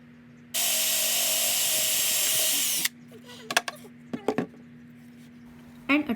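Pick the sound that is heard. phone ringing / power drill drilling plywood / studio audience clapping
power drill drilling plywood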